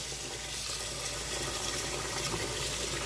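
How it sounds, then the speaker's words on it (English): Cool water runs from a kitchen tap into a pot to rinse white rice, a steady, close splashing gush without talk. "we're going to go ahead and use cool water to rinse our rice."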